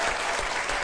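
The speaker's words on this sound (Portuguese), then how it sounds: "Palmas para as unidades também" A church congregation applauds during a monthly thanksgiving service, a brief burst of crowd clapping that is fairly quiet.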